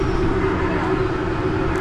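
A train rumbles steadily at Aberystwyth railway station, a loud continuous drone of wheels and engine that fills the space without a break.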